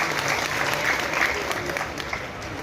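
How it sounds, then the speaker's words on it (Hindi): An audience at a speech celebrating Dr. B.R. Ambedkar's birthday claps steadily, a dense wash of applause from many hands that carries on without pause from start to finish. "जोरदार तालियां तुसी आप दे लिए बजाओ"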